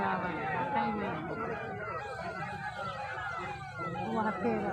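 An ambulance siren wails at the site of a bus accident in which the bus plunged into a canal, rising and falling steadily beneath a crowd's babble and nearby talking.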